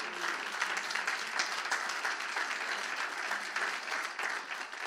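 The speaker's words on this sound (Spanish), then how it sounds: "Vamos a un aplauso al Señor." A church congregation applauds for the Lord during a Spanish-language service, steady dense clapping filling the room for about five seconds without a break, at moderate level.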